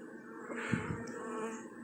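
Bees buzz near a hive, some carrying pollen, a steady close insect hum with a brief louder swell as one passes by, with no talk.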